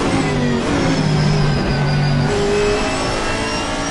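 Chevrolet Camaro race car engine in Assetto Corsa Competizione, revving steadily and pulling through gears with a loud, sustained buzzing drone and shifting pitch throughout, no talking.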